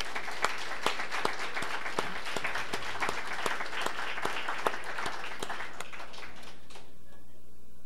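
A conference audience claps steadily for nearly seven seconds, dense sustained applause with sharp individual hand claps standing out, ending abruptly into quiet room tone.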